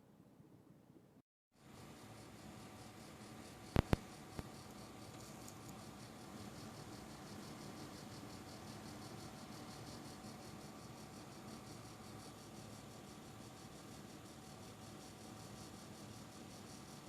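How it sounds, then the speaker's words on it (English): A Sapphire Toxic R9 280X graphics card's cooler fans run under load with a rattle, making a steady broadband whir that stays even throughout after a brief quiet start and a couple of sharp clicks. "Now here is the 280X Toxic on load, but remember this is rattling"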